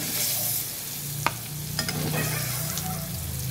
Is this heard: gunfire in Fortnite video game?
no